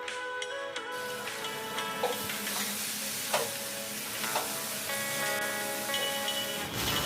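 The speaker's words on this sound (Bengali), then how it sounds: "জিঞ্জার গার্লিক আর টমেটো একসাথে আমি পেস্ট করে রেখেছিলাম সেটা দিয়ে একটু ভালো করে নাড়াচাড়া করে আমি তেল ছাড়া পর্যন্ত এটাকে কষিয়ে নেব।" A ginger, garlic and tomato paste fries in oil in a pan, giving a steady sizzle while a utensil stirs and scrapes with a few sharp ticks and knocks.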